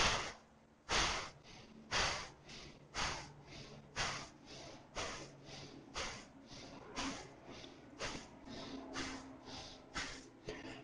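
Yoga breathing through the nose, a steady series of about fifteen sharp, forceful exhales at an even rhythm of roughly one per second, close and clear with quiet gaps between.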